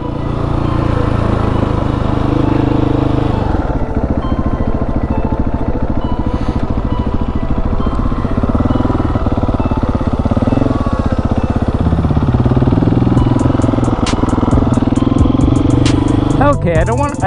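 A KTM 701 motorcycle in first gear during wheelie practice, its single-cylinder engine droning loud and steady at close range with small shifts in revs throughout.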